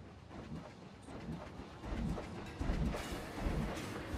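A train at a station in the video game Planet Coaster rumbles with a low, steady rolling clatter, faint and distant, building slightly toward the end without any talking.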